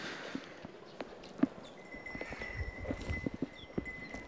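A Nili Ravi buffalo walking outdoors near a river, its hooves landing in an uneven series of soft, close thuds and clops over a low background hiss, with a faint high tone running through.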